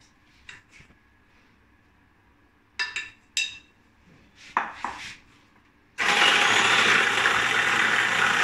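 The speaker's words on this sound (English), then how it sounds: "speed of your beater should be at 2, like this" Electric hand beater running at speed 2 through chocolate cake batter for an ice cream cake, a steady loud whirring drone that starts abruptly partway through after a few scattered clinks and knocks.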